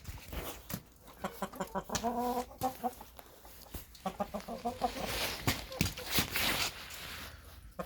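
Several chickens cluck and squawk nearby in bursts, with shuffling and scratching around them.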